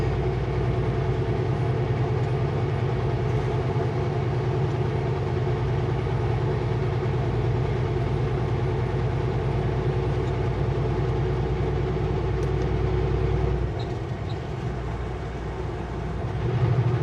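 Train rumbling along the track at night, a steady loud low-pitched roar and rattle that continues for the whole stretch and eases slightly near the end.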